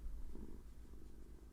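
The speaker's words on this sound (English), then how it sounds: "That purring, man. That purring. So loud." A cat purrs loudly and steadily close by, a continuous low rumble with no voices over it.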